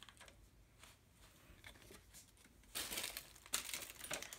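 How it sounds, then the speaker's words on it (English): Crinkling of a Pokémon trading card pack wrapper being torn open, soft rustles building to louder crackling bursts near the end, close and without talk. "I'm so, opening my cards."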